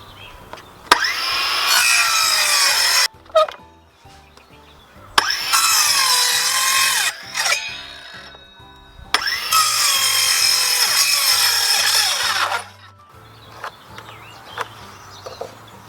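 A hand saw cuts through hardwood for a polytunnel door on an allotment, in three long bursts of rasping back-and-forth strokes separated by short pauses, close and loud, with faint birdsong in the background.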